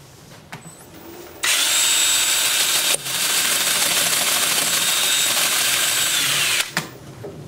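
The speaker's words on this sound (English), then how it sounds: "I'm gonna switch to 2-inch sanding disc at also 120 grit, and I'll work that up through 400" Power sanding of turned wood with a 2-inch 120-grit disc, a loud, close whirring drone that starts abruptly, drops out briefly, resumes, then cuts off near the end.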